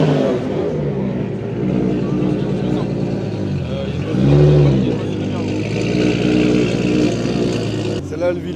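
At a drift event, a car's engine roars loudly and continuously, swelling into a rev midway, with crowd and spectator chatter mixed beneath it.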